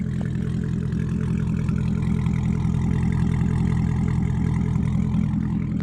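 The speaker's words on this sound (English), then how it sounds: "I can't get over how it sounds. The idle is so nice." A Corvette C7 Grand Sport idles with a deep, steady, burbling rumble, loud and close throughout with no talk over it.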